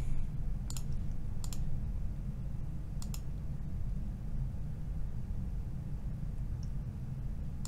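Computer mouse clicks while working in Power BI: a few crisp, faint clicks, two of them in quick double pairs, spaced out over a steady low background hum with no talking.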